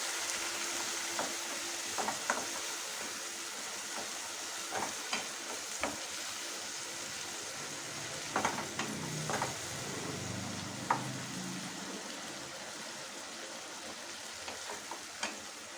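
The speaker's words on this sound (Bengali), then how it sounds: "একটু জল দেব সামান্য কষানোর জন্য" Spice masala sautéing with a splash of water in a pan for kadai chicken: a faint, steady low sizzle runs throughout, with scattered soft taps and scrapes of stirring.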